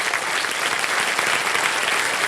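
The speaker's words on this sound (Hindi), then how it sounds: "तालियां बज जाए इनके लिए।" Studio audience applause on the Indian quiz show Kaun Banega Crorepati, season 16: dense, steady clapping from a large crowd, sustained at even loudness throughout with no voices over it.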